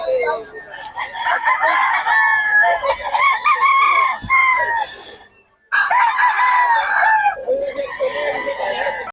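Golden Boy sweater gamefowl roosters crowing loudly and close, two long overlapping crows separated by a brief pause, with more birds calling in the background.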